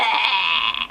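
A voice imitates vomiting with a loud, sustained retching 'bleh' sound up close, one continuous strained gag that cuts off abruptly at the end.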